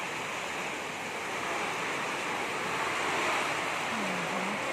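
Floodwater rises during Typhoon Ulysses, a loud, steady rushing roar with wind noise and no break, swelling slightly toward the end.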